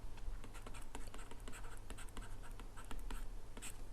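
Pen or chalk writing out equations by hand, a steady stream of short scratchy strokes and taps, close and fairly quiet, with no talking.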